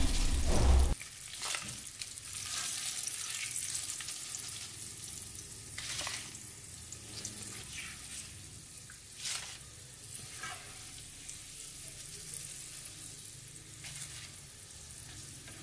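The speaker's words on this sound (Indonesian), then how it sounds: "tambahkan 1 genggam daun jeruk, goreng hingga kering" A handful of kaffir lime leaves fry in hot oil until crisp, giving a soft, continuous sizzle with occasional sharper crackles and stirring sounds, no voices.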